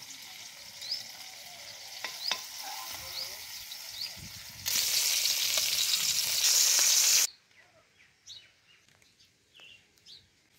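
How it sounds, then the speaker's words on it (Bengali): Eggplant slices frying in a pan, a soft sizzle that swells into a loud, steady hiss for a few seconds before dropping away, with faint bird calls in the background. "বেগুনগুলো এপিট ওপিট করে সুন্দর করে ভেজে নিচ্ছি।"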